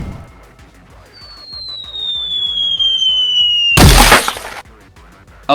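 A charged boost in a video game sets off a sudden loud explosive burst after a long descending whistle-like tone, followed by fading debris noise.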